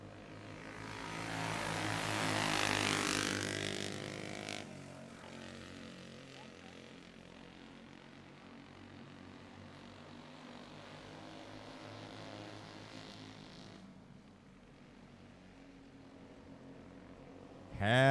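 Open four-stroke go-karts race past on a track, a loud buzzing engine swell that peaks early and then settles into a steady, more distant drone of several karts.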